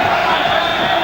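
Boxing arena crowd at Chris Eubank versus Ray Close roars with excited cheering, a dense, loud, continuous wall of voices throughout.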